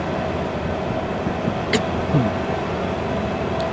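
A heavy freight train in Derail Valley VR, a steady low rumbling drone of the locomotive and rolling wagons, continuous and even, with faint metallic squeals and a brief high tone briefly over it.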